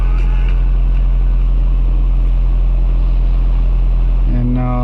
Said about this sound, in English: right now it's idling okay, but that's probably because the engine is cold